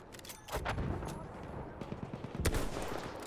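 Gunfire from Battlefield 1 open beta: rapid, close bursts of shots with sharp repeated cracks, heavy low thumps around midway, dense and loud throughout with no clear talk.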